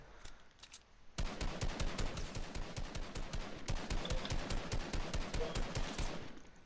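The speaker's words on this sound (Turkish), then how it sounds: "O yanımdan geçti mermi" Rapid automatic gunfire from Fortnite rattles in a dense, continuous burst of close, loud shots after a short quiet start, with faint earlier shots before it.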